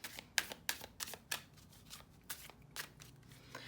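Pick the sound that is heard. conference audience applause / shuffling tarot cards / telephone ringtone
shuffling tarot cards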